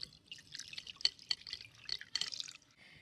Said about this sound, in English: Now you're going to wash it with your cold water.